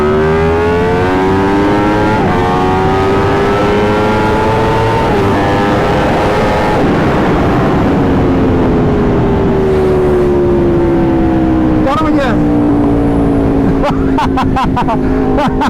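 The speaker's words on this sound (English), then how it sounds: "But boy, does this bike sound amazing." Superbike engines, a 2022 Suzuki Hayabusa and an Aprilia RSV4, rev loudly and continuously while racing, their pitch rising and falling through shifts with a distant crowd murmur beneath.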